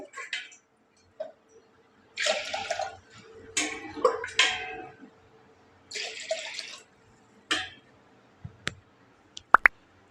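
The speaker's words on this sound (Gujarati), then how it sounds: "આવી રીતના ત્રણ ગ્લાસ પાણી પહેલાં અંદર એડ કરી લેવાનું છે આપણે" Water is poured from a glass into a pressure cooker in short bursts of splashing, each a second or so long, with a few sharp knocks of the glass and pot between pours.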